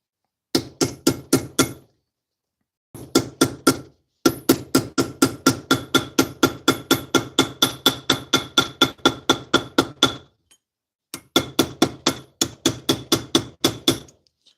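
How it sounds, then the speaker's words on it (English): A polished ball peen or cross peen hammer strikes a copper pendant to texture it, ringing metallic taps in fast, even bursts of repeated blows separated by short pauses, close and clear. "your ball peen or cross peen, whatever hammer you're using to add texture to the copper, is polished and smooth"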